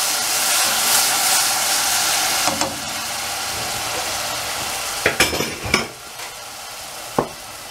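Onion and chouriço fry in olive oil with a broad, steady sizzle throughout, broken by a few sharp clinks and scrapes of stirring utensils against the pan, close and fairly loud, no talking.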